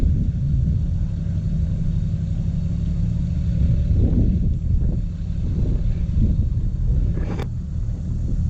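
A Toyota 80 series Landcruiser engine drones in a low steady rumble while driving through floodwater mud near Townsville, with wind noise over the microphone, a few surging splashy swells and a brief sharp click near the end.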